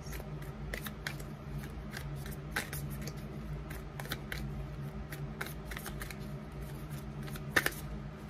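Tarot cards are shuffled and handled in a quiet room: soft, repeated riffling and sliding of the cards with a few sharper snaps, faint and close, with no one speaking.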